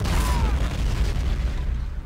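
Gunfire and booming battle noise in the video game Men of War Assault Squad 2: a dense, steady low rumble with scattered pops and bursts, loud and continuous throughout.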